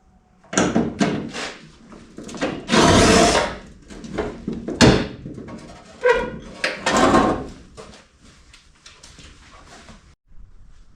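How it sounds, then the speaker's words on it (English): Metal clanks, scrapes and short tool bursts come from work removing the door of a rusty 1957 Chevy 210 four-door wagon under restoration, in irregular loud bursts over about eleven seconds with no talking. "But before we start, we should probably get this door out of our way."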